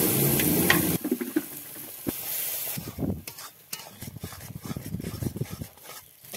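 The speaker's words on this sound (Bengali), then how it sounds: "মটরশুঁটিটা দিয়ে ভালো করে কষিয়ে নেব।" Peas sauté in a hot pan, a soft sizzle under repeated scraping and clattering stirs of a spoon, close and uneven in rhythm.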